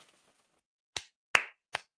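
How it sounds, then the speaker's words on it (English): Three sharp hand claps, close and spaced unevenly across about a second, standing alone after a brief faint murmur. "Clap it up for him."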